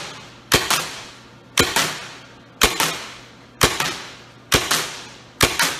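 Paintball marker with a Hammerhead barrel, firing round paintballs and First Strike rounds: six sharp, loud shots spaced roughly a second apart, each a crisp pop with a short decaying tail, and no talk.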